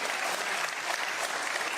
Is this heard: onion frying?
no